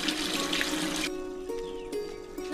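Tap water runs into a container in a steady hiss, which drops to a lighter, gurgling fill partway through as the pitch of the filling rises, fairly close.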